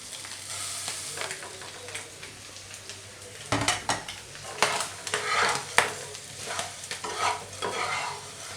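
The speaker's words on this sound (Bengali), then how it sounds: "মুড়ি অ্যাড করার পর সবগুলো উপাদানকে একটু ভালো করে মিক্স করে নিতে হবে।" Puffed rice is stirred with fried egg and salt in a pan, giving a dry, rustling scrape and clatter of spoon against metal, quiet at first and then busier with repeated stirring strokes over a faint sizzle.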